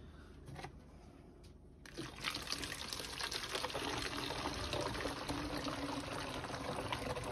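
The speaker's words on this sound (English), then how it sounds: "We just strain it through a tea strainer to get the chaff and all the other lumps out" Milk for bottle-fed orphan lambs strained through a tea strainer, a steady close pouring and trickling of liquid that starts after a brief quiet opening and runs on to the end.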